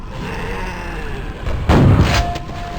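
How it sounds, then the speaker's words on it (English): A double-barrel shotgun in Quake VR fires one heavy, booming blast. The shot is close and loud and rises out of a constant roar of game ambience. "here's my double barrel shotgun"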